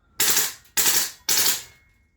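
GHK Daniel Defense M4 V3 gas blowback airsoft rifle firing three short automatic bursts in quick succession, sharp and close, with clean gaps between them and no talking.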